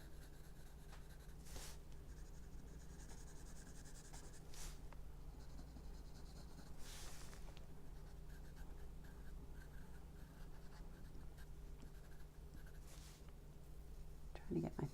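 Pencil shades lightly across paper in loose strokes for a tonal value study, a soft continuous scratching rub with brief louder swipes, close and faint, with a quiet voice speaking over it.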